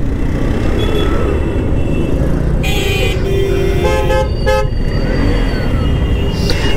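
A traffic jam at the Kazipara rail gate crawls along with a steady engine and road rumble, while several car horns honk in short bursts and one longer blast close by.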